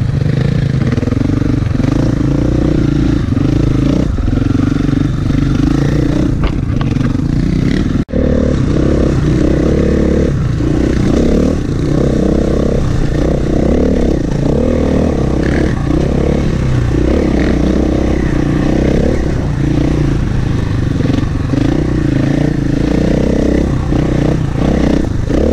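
KTM 450/500 EXC dirt bike engine running steadily and loudly throughout, a continuous off-road motorcycle drone with some clatter and scraping, one brief sharp knock partway through.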